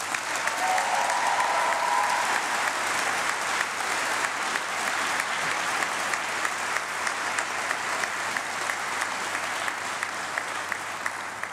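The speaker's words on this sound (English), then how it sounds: "A big thank you and round of applause for Professor Thomas, please." Audience applause at a university summer graduation congregation, a long sustained round of clapping from a large hall that holds steady and tapers slightly toward the end.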